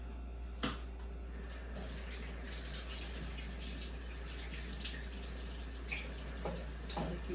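Tap water runs steadily into a sink while butter is washed off with soap, a soft continuous splash with a few brief clinks, over a low constant hum.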